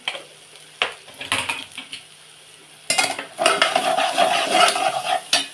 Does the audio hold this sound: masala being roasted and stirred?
yes